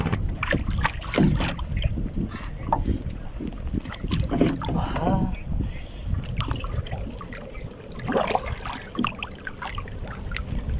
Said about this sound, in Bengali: মাছ ধরার জন্য ইঞ্জিন চালিত নৌকা